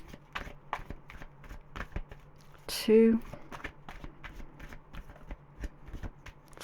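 Tarot cards shuffled in quick papery riffles and taps, a steady run of short crisp bursts close by, with someone speaking briefly over them.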